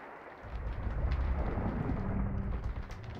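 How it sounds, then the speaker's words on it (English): Storm sound effect with rumbling low thunder and heavy pouring rain, a dense steady wash building over a few seconds. "I could hear a storm brewing above, and in an instant the rain began to pour."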